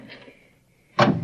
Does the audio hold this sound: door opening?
yes